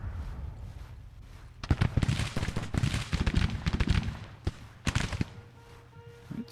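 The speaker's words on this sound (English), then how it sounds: "Some long-range Mississippi fire from Jubal Early's boys." Long-range Civil War rifle fire from skirmishers in the Grand Tactician strategy game, a crackling fusillade of many overlapping shots that swells and rolls for several seconds, then tails off into scattered reports over low battlefield rumble.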